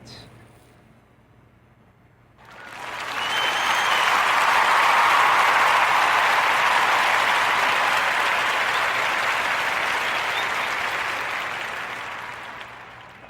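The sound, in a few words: applause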